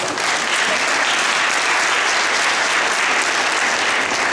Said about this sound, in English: Please join me in applauding him for this introduction.